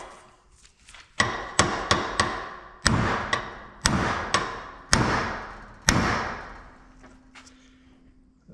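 Hammer blows strike a suspension part on a C3 Corvette, about nine sharp metallic whacks spaced roughly half a second to a second apart, close and loud, each ringing briefly.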